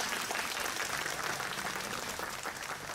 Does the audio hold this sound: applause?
yes